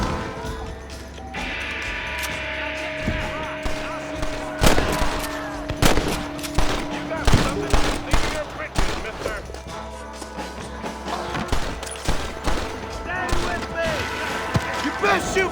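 Western gunfight in the video game Red Dead Redemption, rapid gunshots cracking in irregular bursts amid impacts and crashes, loud and close, with character voices talking over the shooting.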